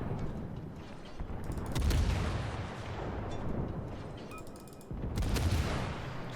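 Warships in World of Warships trade heavy naval gunfire. Deep booms and rumbling salvos roll on steadily, with a fresh loud blast near the end.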